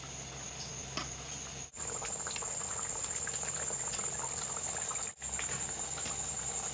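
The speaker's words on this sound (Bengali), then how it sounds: "তো একটু ফুটিয়ে নেব।" Fish curry bubbles steadily in a pot, a dense continuous simmering patter with fine popping, close and fairly quiet, with no voices.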